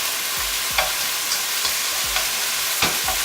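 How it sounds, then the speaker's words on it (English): Thinly sliced beef for Korean bulgogi stir-fried in a pan: a steady sizzle with a rhythmic series of close spatula scrapes and pushes, roughly two per second, and no speech. "Just stir fry this beef for about 5 minutes"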